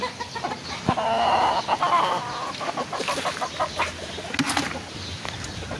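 Pet chickens cluck and call steadily at feeding time in a yard as feed is scattered on the ground, with wing flaps and busy close-up fowl chatter throughout.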